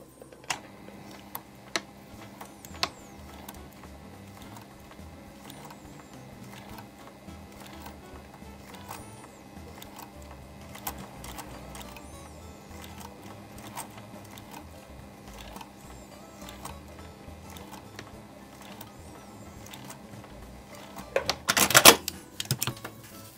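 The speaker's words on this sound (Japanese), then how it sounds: "輪の部分スレスレを縫っています。" A sewing machine stitching a dart on a fabric dog torso pattern, quiet rapid mechanical ticking and whirring in short runs, with a louder clatter near the end.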